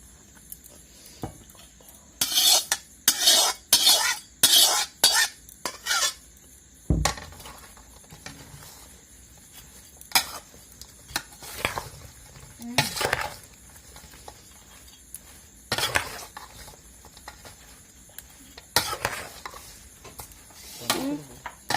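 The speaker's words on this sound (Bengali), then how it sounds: "তেলটা ঠান্ডা করে নিয়েছি এই তেলটা এখন ঢেলে দিচ্ছি" Spiced mango pickle gets stirred and mixed with cooled oil, giving scattered scraping and clinking strokes. They bunch in a quick run early on, then come as sparse separate knocks against a quiet background.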